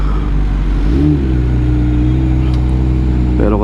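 A big motorcycle engine rumbles on the road, a steady loud low drone that swells briefly around the start and holds, with a faint pitch rise at the end and no clear talk over it.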